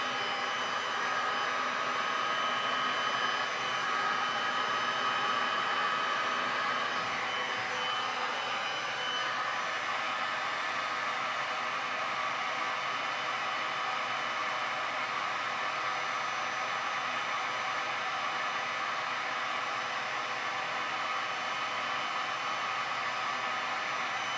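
Heat gun blowing over resin poured on a large canvas for a pink sand beach painting, a loud steady fan roar and hiss that runs unbroken throughout, close up with no talk.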